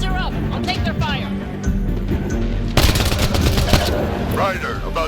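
Rapid gunfire from a Mass Effect: Andromeda firefight, repeated loud shots and a dense burst in the middle, mixed with game effects and voices talking over the action.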